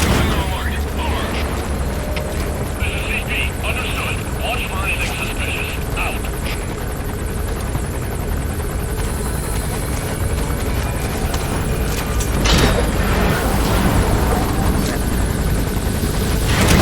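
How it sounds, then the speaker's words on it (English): Military helicopter in Metal Gear Solid V: The Phantom Pain, a steady loud rotor drone running throughout with game sounds and talk layered over it. "Yep, it goes right through the chopper."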